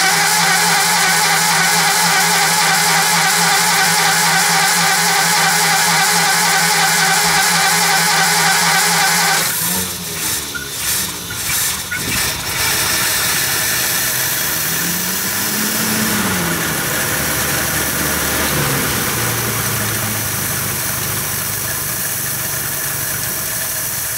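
A Lincoln Continental car engine cranks and catches, then settles into a steady, close mid-pitched idle with a rhythmic vibration, no voices over it.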